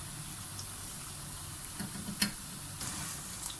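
Pakoras frying in hot oil for kerhi pakora: a soft, steady sizzle with a faint bubbling hiss and an occasional light clink of a utensil.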